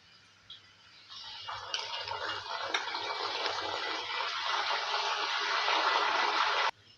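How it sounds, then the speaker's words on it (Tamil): Salt water poured into a pan of frying tapioca chips sets off a loud, hissing sizzle that swells after a second, roars steadily for several seconds and then cuts off abruptly. "இப்போ இது கூட கொஞ்சம் நம்ம உப்பு தண்ணி சேர்த்துக்கலாம்."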